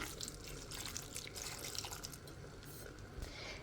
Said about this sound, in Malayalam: ഇനി ഇതൊക്കെ കൂടെ വേവാൻ പാകത്തിനുള്ള വെള്ളം കൂടെ ഒഴിക്കാം